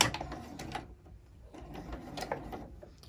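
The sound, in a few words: sewing machine stitching a sunglass pouch closed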